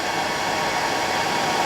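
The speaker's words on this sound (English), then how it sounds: "Now I'm going to just blow it with the hairdryer just to draw it back." A hairdryer blows steadily over a freshly tied Japanese Pheasant Tail nymph at a fly-tying bench, its loud, constant broadband rush filling the whole moment without pause.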